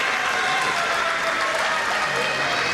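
An indie wrestling crowd at a Texas showcase match keeps up a dense, steady roar of cheering and clapping throughout, loud and continuous with no lulls.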